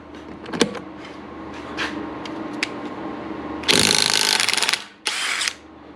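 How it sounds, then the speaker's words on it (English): An impact wrench on a 3/4 inch socket removes a swollen Ford lug nut, with a few clanks of handling and then a loud, close burst of rapid hammering whir that stops briefly and starts again for a shorter burst. "Hook the impact to it."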